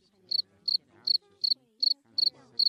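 A pet cricket in a Family Guy cartoon chirps as a sound effect: seven crisp, evenly spaced chirps, loud and close, over faint background sound.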